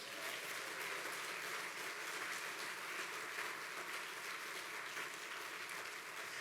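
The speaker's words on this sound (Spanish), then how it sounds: "Dale un aplauso a Dios." A church congregation applauds steadily, a dense wash of clapping from many hands that holds at an even level throughout, heard from some distance.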